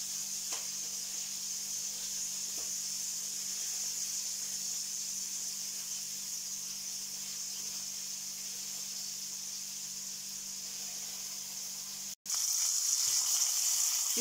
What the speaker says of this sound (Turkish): Kızaran biberleri şöyle bir tur çeviriyorum.